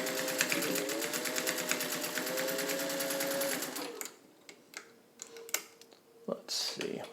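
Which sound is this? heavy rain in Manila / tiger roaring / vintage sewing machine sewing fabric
vintage sewing machine sewing fabric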